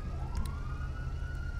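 A police car siren wails in GTA Online, one steady rising tone sustained at moderate loudness over a low engine and traffic rumble, with a couple of brief clicks and no talking.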